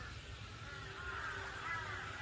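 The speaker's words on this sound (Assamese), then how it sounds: "শুনিছেনে কাউৰীৰ মাত শুনিছেনে আমাৰ তাতে বহুত কাউৰী আছে" Crows caw repeatedly at dusk in a village, fairly faint and somewhat distant, over a low steady background hum.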